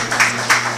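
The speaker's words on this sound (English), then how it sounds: "Please give him a round of applause" A panel audience at a youth leaders' session beside the U.S.–Africa Summit breaks into applause. The clapping comes as a brief, dense wash with two louder surges in under a second.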